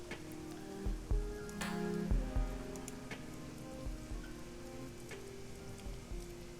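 Steady rain patters in Shadowrun Hong Kong, a soft continuous hiss with scattered drips, joined by low tonal game ambience and occasional brief thuds.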